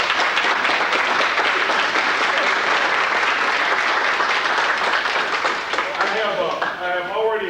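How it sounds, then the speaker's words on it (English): An audience at a county awards dinner applauds the cooks, giving dense, sustained clapping that fills the room and carries on steadily before a voice begins speaking near the end. "there's some people here that really need a great round of applause"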